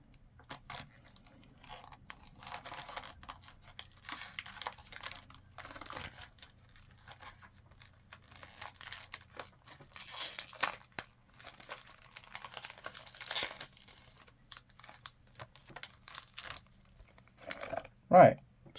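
A Pokemon card booster pack's wrapper is crinkled, crumpled and torn open by hand at close range, in quiet irregular rustles and tearing bursts, with a brief louder rip near the end.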